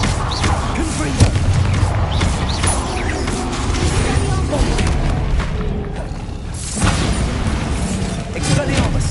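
Confringo fire spell blasts in the Hogwarts Legacy game, dense booming explosions and crashing impacts layered with mechanical clatter, loud and continuous with a few stronger bursts, a voice briefly present.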